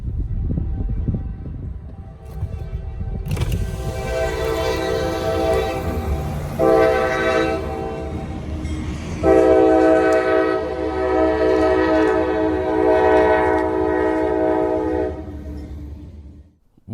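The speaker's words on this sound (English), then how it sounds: "we caught CSX L685, a local, at the Virginia Street Railroad crossing, with CSX 5340 leading the train solo" CSX local freight L685, led by a single locomotive, CSX 5340, rumbles over the Virginia Street railroad crossing and sounds a loud, close horn in several long blasts over the steady roll of the train.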